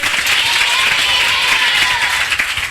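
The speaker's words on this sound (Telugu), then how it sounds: "ఒకసారి అందరూ చప్పట్లు కొట్టండి, పెద్దగా కొట్టండి" A church congregation claps loudly together in a dense, continuous burst of applause, filling the room with even rapid hand claps for a few seconds.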